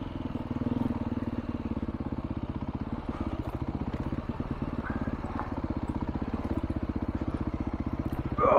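A Beta RR-S dirt bike engine chugs steadily at low speed on slow singletrack, a dense, even rumble of rapid firing pulses that stays close and constant throughout.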